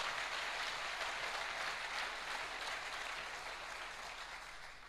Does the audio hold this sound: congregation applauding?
yes